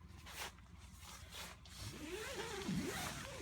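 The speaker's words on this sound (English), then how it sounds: "it zips all the way down like that so you can see out" The window zipper on a Coleman Highline II dome tent is pulled along its track in a few quick rasping strokes, close and fairly quiet.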